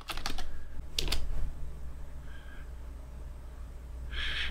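A Linux command is typed on a computer keyboard, giving a quick cluster of close key clicks. A few isolated taps follow, one of them likely the Enter key, over a quiet room hum.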